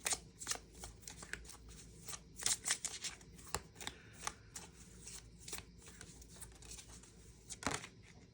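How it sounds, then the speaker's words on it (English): Moonology oracle cards are shuffled by hand in quick papery riffles and slaps, close and fairly soft, coming in uneven bursts with brief gaps between. "I really want to pull a Moonology card."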